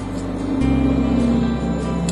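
Kia Sorento engine in manual mode rolling downhill on a mountain road, a steady low drone with a gear-related pitch shift partway through, heard from inside the cabin.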